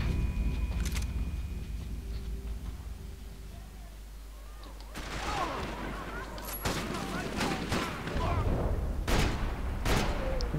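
Gunfire from the video game Max Payne 3 in a favela setting, with a scattered sharp shot early, then bursts of rapid shots and impacts crackling loudly over a low game background, mixed with voices talking.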